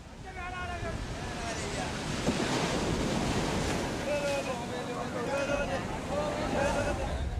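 Ocean surf washes steadily onto a beach in southern India where fishermen haul a net, a continuous roar of breaking waves with wind buffeting the microphone and faint voices in the background.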